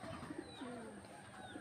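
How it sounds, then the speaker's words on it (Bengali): Pigeons coo faintly a few times, soft low throaty calls scattered over a quiet background with no talking. "দেখতে পাচ্ছ বন্ধুরা, 5টা পায়রা দেখা যাচ্ছে"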